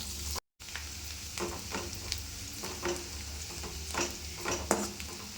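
Onions, green chillies and curry leaves sauté in a pan for rava upma, a steady sizzle with repeated scrapes and clinks of a spoon stirring against the metal, close and continuous with no talking.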